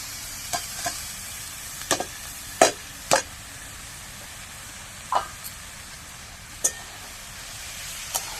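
Chopped banana flower sautéing with spices and salt in a pan for a mung dal dish gives a soft steady sizzle, punctuated by several sharp scrapes and clacks of a stirring spoon.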